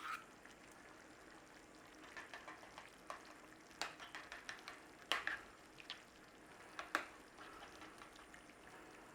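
Red lentil bolognese with tomato paste is stirred in a pan, a soft, quiet sizzle broken by scattered scraping clicks and small spoon taps.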